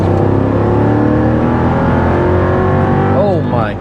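Mercedes W211 E55 accelerating hard from a 40 mph roll in agility mode, a loud continuous engine roar climbing in pitch, with an upshift chirp near the end.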